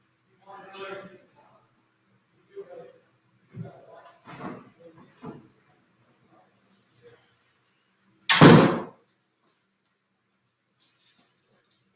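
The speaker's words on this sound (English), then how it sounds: "just closing the door" A door shuts in an art studio during a colored-pencil lesson, making one sharp, loud thump among quieter rustles and handling noises.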